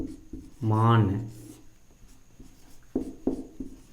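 Writing during a Hindi grammar lesson, heard as short scratchy strokes and taps in the latter half. A brief voice sound comes early on.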